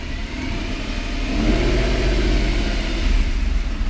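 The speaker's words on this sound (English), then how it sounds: "Even if we rev it up to 1500 where it misfires." A Mercedes E63 AMG engine, up close, revs steadily toward 1500 rpm with a low, rough, uneven rumble that suggests misfiring, holding a sustained loud drone with no talking.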